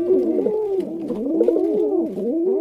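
A pigeon coos steadily and close by, its soft rolling calls rising and falling in a continuous rhythm with no other sounds.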